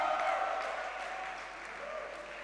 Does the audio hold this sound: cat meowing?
no